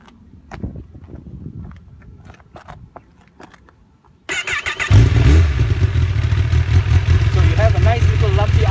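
A 2016 Kawasaki ZX-10R sport bike's engine starts after a few seconds of quieter rustling and then idles loudly and steadily up close with a rough, throaty tone.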